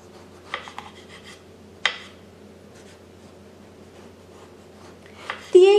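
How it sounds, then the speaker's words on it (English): A knife cuts an eggplant into round slices on a board, giving a few soft, scattered cuts and light taps with long quiet gaps between them, and a brief sharper scrape at the end. "Cut the eggplant into 1/2 to 1 inch round slices."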